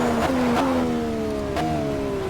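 A high-pitched Indy race car engine in a racing video game revs and whines with rising pitch sweeps, loud and close, with no voices.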